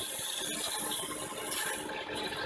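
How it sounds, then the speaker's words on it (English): Rapid rattling of a shaken spray can, a steady metallic clatter running continuously for a couple of seconds, close by. "So here we're going to spray it and give it a good shake."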